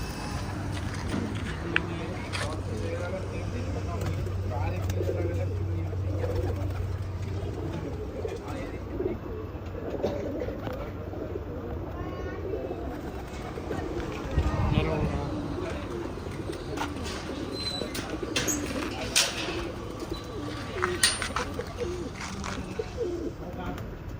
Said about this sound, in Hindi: एक बार सारे कबूतरों को शौक कराऊँ